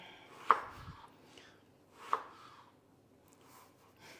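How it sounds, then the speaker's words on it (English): A knife cuts through food on a board for a Derbyshire fidgety pie, two sharp chops about a second and a half apart, close and fairly quiet, followed by softer handling noises. "Don't slice it too thin, it will just disintegrate."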